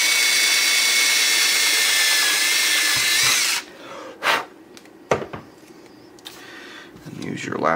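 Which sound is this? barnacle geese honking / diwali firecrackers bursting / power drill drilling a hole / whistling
power drill drilling a hole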